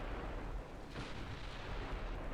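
A torpedo strikes a warship in the Ultimate Admiral Dreadnoughts naval video game, heard as a quiet, sustained explosive rumble with a deep, broad roar that barely shifts over two seconds.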